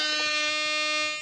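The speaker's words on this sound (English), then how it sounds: "I had my air horn on deck, but I'm gonna get it pulled up" One loud, sustained air horn blast, a harsh buzzing tone held for just over a second before cutting off.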